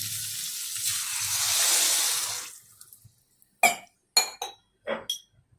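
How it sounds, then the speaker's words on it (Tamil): One glass of water is poured into a pan of sautéed tomatoes for semiya (vermicelli) kichadi, a rushing, hissing pour lasting about two and a half seconds, followed by a few sharp, separate glass clinks. "1 கிளாஸ் தண்ணி விட்டுறலாம்"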